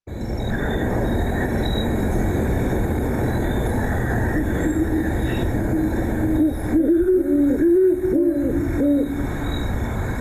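Recorded great horned owl hooting, a short series of four or five deep, resonant hoots arriving in the latter half over a constant, loud background rumble and hiss that fills the whole stretch.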